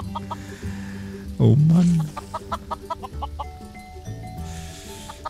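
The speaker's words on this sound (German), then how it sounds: "Die sind bald mehr Hühner als oben, hier unten." Minecraft chickens cluck and squawk in an underground farm, one loud close cluck standing out amid lighter game sounds, while someone speaks briefly in German.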